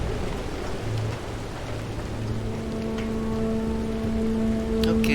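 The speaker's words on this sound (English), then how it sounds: "at least I'm out of the rain." Steady rain in the video game Pacific Drive pours continuously with a constant hiss, layered over a low droning hum and a few faint tonal lines.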